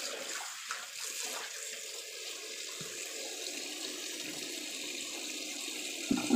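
Water runs steadily from a tap while watercress is washed and soaked in a kitchen, a continuous hissing flow close by with a brief splash near the end.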